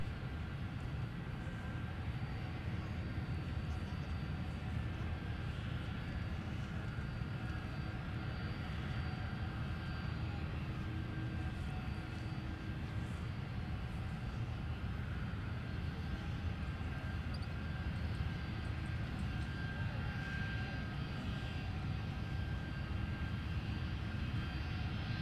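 A United airliner takes off from runway 17 at Minneapolis–St. Paul airport, its engines giving a steady, loud, broadband roar that holds without a break for the whole stretch.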